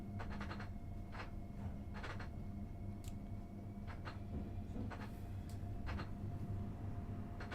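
A locomotive in Train Sim World 6 on the Frankenbahn route runs with a faint steady traction-motor hum, punctuated by repeated light clicks and clunks of wheels over rail joints, with no talk.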